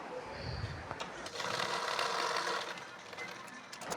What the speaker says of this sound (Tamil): கரெக்டாக தையல் போட்டுக்கோங்க